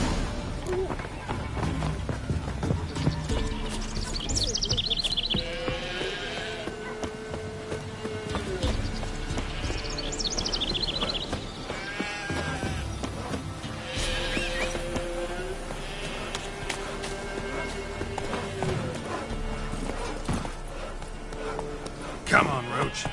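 Horse galloping and neighing in The Witcher 3, with whinnies and clip-clop hoofbeats in a game soundtrack, mixed with music and talk throughout.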